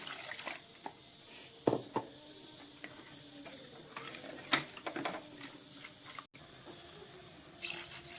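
Water trickles and splashes steadily into a pot of fish head curry, a faint running pour with a few louder splashes and clinks along the way.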